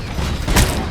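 A grenade explodes in the RoboCop: Unfinished Business shooter game: a single short, loud, close boom bursting out of a dense rumbling firefight.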